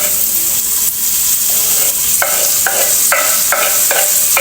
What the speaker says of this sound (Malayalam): ഇനിയിപ്പോൾ ഇതിലേക്ക് തക്കാളി ഇട്ട് കൊടുക്കാം